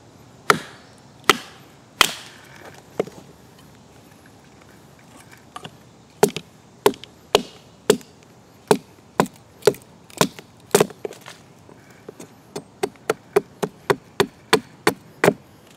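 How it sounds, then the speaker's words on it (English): A CRKT Birler axe batoned through a log to split firewood: a long series of sharp, close wooden knocks, spaced at first and then coming in a quickening, steady rhythm near the end. "if you're trying to process firewood for some reason, is just treat it like a knife and just baton it"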